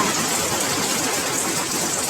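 Steady rain falls in a dense, even hiss close by, a constant wash of drops without pause or variation across the short stretch.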